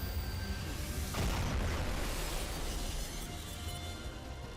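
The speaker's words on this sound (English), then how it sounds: "this attack punched a pentagram-shaped hole straight through the ceiling" A pentagram incineration spell from Fault Milestone One sets off a loud explosive blast. A steady roar is followed by a sharp burst near the start, then a long rumbling tail that slowly fades.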